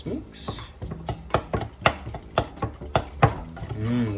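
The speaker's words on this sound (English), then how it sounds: "Just go ahead and grab a spoon and mix." A spoon clacks and scrapes against a bowl while chamoy sauce is being mixed, a fairly regular run of sharp taps close by with a voice speaking now and then.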